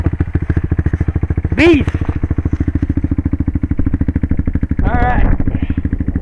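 Kawasaki dirt bike engine idling with a steady rapid pulsing putter that runs the whole time, loud and close, under brief speech.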